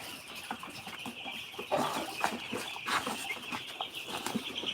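Eight-day-old broiler chicks in a poultry house cheep and cluck in a continuous, overlapping chorus, with sharper individual calls popping out and a steady higher-pitched background of peeping.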